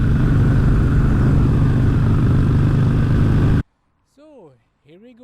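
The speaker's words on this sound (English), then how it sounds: "I hope that you can get the note of the exhaust." A motorcycle's exhaust note, heard from the rider's position during a comparison of Roof Boxer V8 and Bandit Fighter helmets, rumbles loud and steady for several seconds, then cuts off abruptly and a voice speaks in the quiet.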